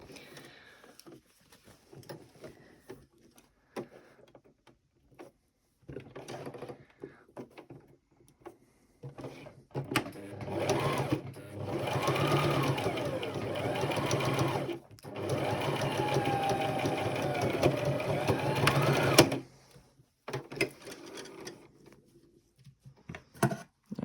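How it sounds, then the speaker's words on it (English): A sewing machine stitches close to the edge of a Christmas stocking, running steadily for several seconds, its whirring stitch rhythm speeding and slowing slightly, with quiet handling sounds before and after. "I'm just going to do a wee stitch on the sewing machine very close to the edge here"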